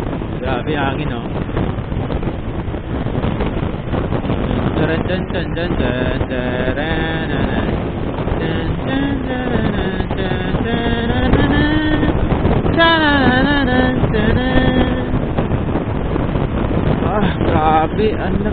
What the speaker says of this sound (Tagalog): Grabe hangin oh